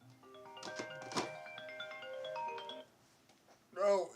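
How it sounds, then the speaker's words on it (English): A phone ringtone plays a melodic electronic tune in short tonal bursts over a lively indoor stream background, with people chatting nearby. "No, answer the phone."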